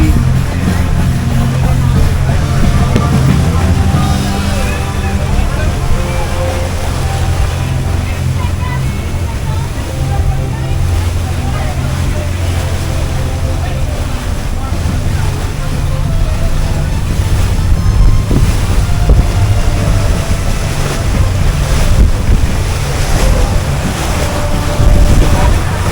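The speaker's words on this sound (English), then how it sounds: "We went over a big old wave" A dolphin tour boat off Hilton Head pounds over big ocean waves, with a constant heavy roar of engine, water and wind buffeting the microphone throughout, and voices shouting over it.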